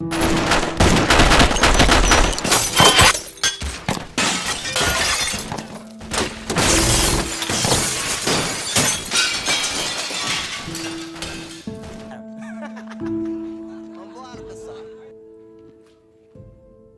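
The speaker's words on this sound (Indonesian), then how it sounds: "langsung saja dia dan rumahnya diberondong tembakan yang amat sangat" Loud bursts of rapid gunfire with shattering glass and crashing debris, dense and close, then fading into quieter tones with voices underneath.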